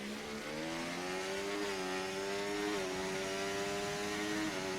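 A race car on a hot lap at the Las Vegas round of a racing video game, its engine holding a steady high whine with slight pitch shifts as it gears through, continuous and fairly loud with no talk.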